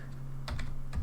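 Typing on a computer keyboard while entering a line of game code, with two quick clusters of close key clicks over a low steady background hum.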